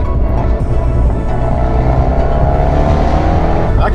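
Turbocharged Fiat 124 Spider Abarth pulling hard in fourth gear, a loud, steady engine drone rising in pitch throughout, close and continuous with no talk over it.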